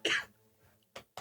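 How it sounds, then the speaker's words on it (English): A single throaty cough up close, followed by two short, quieter breathy coughs after a brief pause. "Coughing."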